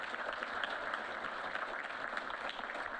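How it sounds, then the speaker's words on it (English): Audience applause after a remark about Nebraska history at an awards event, a steady dense wash of many hands clapping, moderately distant and even throughout, with no speech over it. "I think that's worth clapping for."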